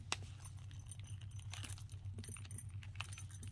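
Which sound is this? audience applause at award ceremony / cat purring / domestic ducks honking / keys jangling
keys jangling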